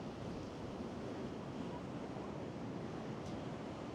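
Constant roar of surf beneath a pier at Gorleston-on-Sea, waves washing in a dense, even rush with gusting wind noise over the microphone throughout.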